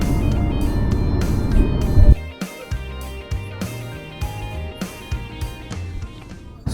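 Car cruising along a highway in Rajasthan near the Aravalli Hills, a steady loud road and engine rumble for two seconds, then a quieter cabin with repeated low thumps and knocks through the rest.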